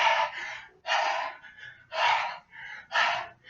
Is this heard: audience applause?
no